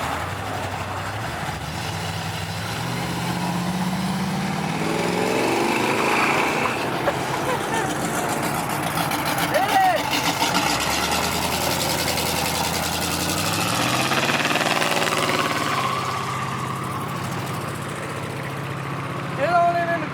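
A diesel vehicle engine at a car cruise show rumbles and revs steadily for about twenty seconds, swelling in the middle, with people talking over it throughout.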